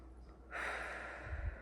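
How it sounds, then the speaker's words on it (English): A single long, breathy pursed-lip exhale, close and soft, following a quiet pause, done as a COPD breathing exercise. "In through your nose, out through your mouth with pursed lips."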